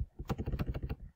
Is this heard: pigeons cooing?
no